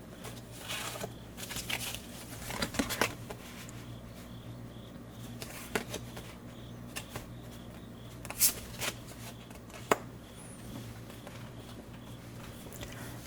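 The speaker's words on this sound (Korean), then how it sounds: "첫 번째 카드를 선택하신 분들 카드 오픈하겠습니다." Tarot cards being handled and turned over, soft papery slides, taps and flips scattered irregularly and close by over a faint steady background hum.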